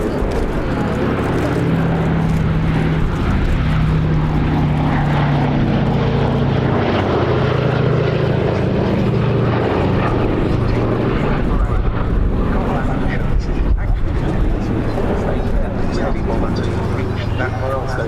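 A Boeing B-17G Flying Fortress, 'Sally B', flies past at the Duxford summer air show, its propeller engines a loud, steady drone throughout, with a voice speaking over it.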